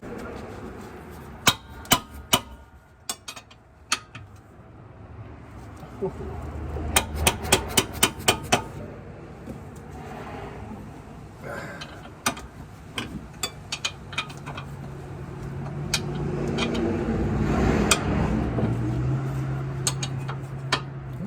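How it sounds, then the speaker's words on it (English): Rear caliper bracket bolts are cracked loose with hand tools on a 2004 GTO, bringing sharp metallic clicks and ratchet bursts over a low hum, with a louder rumble of activity toward the end. "We're gonna crack these two, get the caliper bracket off, just like we did up front."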